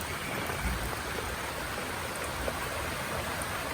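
Rain comes down in a dense, even hiss that stays constant throughout, with no voices heard.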